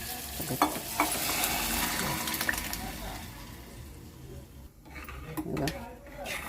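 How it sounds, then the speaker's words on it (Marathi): Cooked dal poured into a hot tempering on medium heat, a loud splashing sizzle that settles into steady bubbling and stirring, with someone talking over it. "आता आपण डाळ फोडणीला घालणार आहोत"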